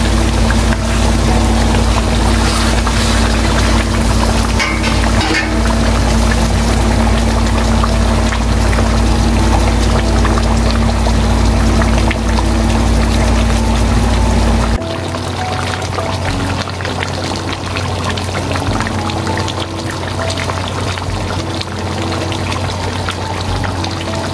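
A steady stream of water pours continuously into a pot over a low constant hum, the hum dropping away midway while the pouring carries on.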